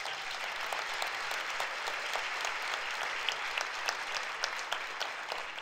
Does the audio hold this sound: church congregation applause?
yes